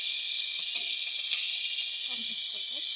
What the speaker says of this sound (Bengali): হালকা লাল লাল করে ভেজে নেবো